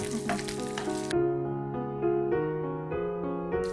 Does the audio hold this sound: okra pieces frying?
yes